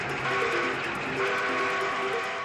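Steam locomotive train effect, a steady rolling rumble with repeated rhythmic chuffing bursts and a whistle-like tonal layer, moderately loud and continuous with no talk over it.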